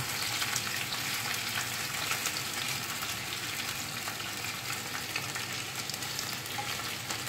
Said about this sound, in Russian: Наша картошечка жарится